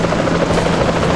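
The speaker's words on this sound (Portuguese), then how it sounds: "Será que eu consigo pegar esse helicóptero aí?" A helicopter's rotor thrums loud and close in a GTA video game, a dense, unbroken chopping drone with no talking over it.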